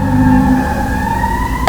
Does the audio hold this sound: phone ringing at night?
no